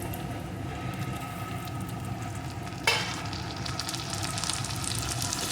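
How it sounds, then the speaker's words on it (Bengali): Chopped tomato drops into a pan of frying onion and garlic, setting off a steady, close sizzle, with a brief sharp hiss partway through as the pieces hit the hot oil. "এখন এর ভিতরে দিয়ে দেবো একটা টমেটো কুচি"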